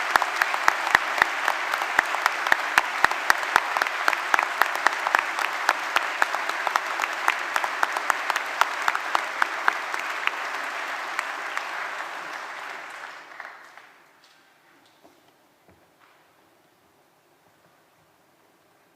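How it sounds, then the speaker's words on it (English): Large audience applauding graduates at a university summer graduation ceremony, sustained dense clapping with scattered sharp individual claps for about twelve seconds, then tapering off into near silence. "So let's give them and all the graduates a big round of applause."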